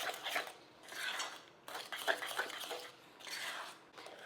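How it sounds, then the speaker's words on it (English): A spoon scrapes and swishes through banana cake batter in a bowl, soft rhythmic stirring strokes repeating in waves, faint and close with no talking. "I'm going to stir that in."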